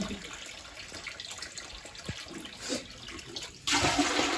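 Water pours into a bucket as it is filled at home in the morning, a steady rushing splash that swells suddenly louder near the end, with faint background noises throughout.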